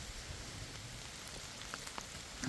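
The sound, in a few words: rain falling on a forest hiking trail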